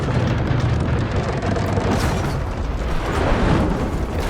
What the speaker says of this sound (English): I know how to fire a fucking trebuchet